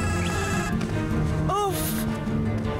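A telephone rings briefly, its warbling tone rising out of a steady bed of background music and room noise for about a second, fairly clear but not loud.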